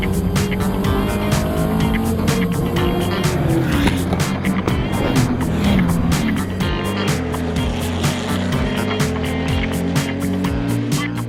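Historic race car lapping a hilly circuit during the Tour Auto 2012, its engine roaring loud and steady throughout with shifting pitch as it accelerates and brakes, tyres squealing at times.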